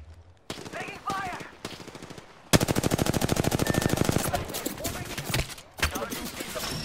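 Automatic gunfire in a video game firefight, starting as short bursts under brief player chatter, then a long loud stream of rapid shots with a few scattered later rounds.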